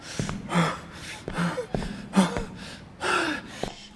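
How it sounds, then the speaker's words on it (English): Voice-acting recording of heavy, rhythmic panting: about five or six sharp, breathy gasps close to the microphone, evenly spaced and loud, with no words spoken. "too much panting"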